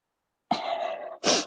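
A stifled near-sneeze, a sudden close burst of breathy, throaty sound lasting under a second, followed by a short second puff, in an otherwise silent room.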